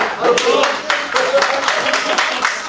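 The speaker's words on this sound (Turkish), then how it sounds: "Alkış, alkış, alkış." Applause at a spring table tennis tournament semifinal: a small group claps in quick, uneven bursts, fairly close, with voices talking over it.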